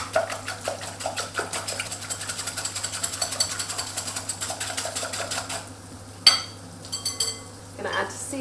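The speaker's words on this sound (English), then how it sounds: "We're going to give them a bit of a whisk." Eggs for a quiche Lorraine being whisked in a bowl, a fast steady rhythm of light ticking strokes of whisk against bowl, close and continuous, then a few louder knocks near the end.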